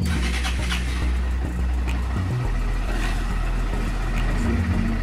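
A Honda Fan 160 motorcycle engine starts and settles into a steady low idle, close and fairly loud, with a brief dip in the middle and no talk over it.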